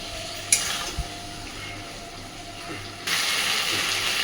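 Potato and pointed gourd frying with spices and rice in a pan, with a soft continuous sizzle, a couple of sharp utensil knocks early on, and a louder hissing surge near the end, heard close with no talk.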